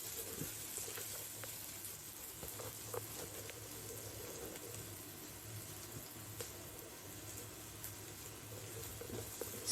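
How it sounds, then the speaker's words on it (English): Onion sautéing in a pan with cinnamon, bay leaves, green cardamom and black peppercorns for green prawns pulao, giving a steady, faint sizzle with soft crackles throughout and no talking. "Now I'm adding some onion and then I'm sauteing all of it together nicely."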